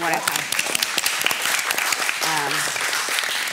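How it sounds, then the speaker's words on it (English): Audience at a lung cancer speaker series claps in a patchy, uneven round while voices talk over the clapping throughout. "Oh, you want to clap for everybody?"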